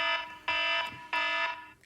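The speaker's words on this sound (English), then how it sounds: "Alarm." Apple's classic Alarm ringtone: two loud bursts of a bright, harmonically rich electronic alarm tone, each lasting about half a second, with brief gaps between them, heard alone and up close.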